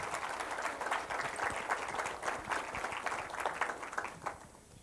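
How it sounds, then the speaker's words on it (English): Fairly faint crowd applause from an audience, a continuous patter of many hands that thins out toward the end. "Give her another round of applause"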